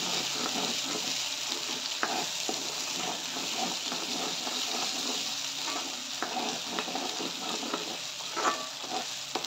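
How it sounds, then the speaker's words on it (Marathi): Ground masala fries in oil in a kadhai, giving a steady bright sizzle with scattered pops and crackles and occasional stirring scrapes, close and continuous. "पूर्ण तेल सुटेपर्यंत मसाला भाजू द्यायचा"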